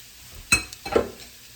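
Potatoes and onions frying in a pan, with one sharp burst of sizzle followed by a second swell of frying and stirring, close and fairly quiet.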